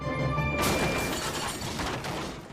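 A toy train smashes through buffers and a stack of oil drums: a sudden loud crash cuts in after a brief musical tone, followed by a dense rattling clatter of falling pieces that fades away.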